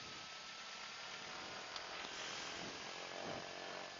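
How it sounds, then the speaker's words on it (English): A Britten Norman Islander with Lycoming engine during a run-up, its propeller feathering, heard as a steady loud engine and propeller drone whose pitch and tone shift slightly as the revs drop, with no talk. "we can hear the feather happening, we can hear the prop feathering, and we can see the RPM drop"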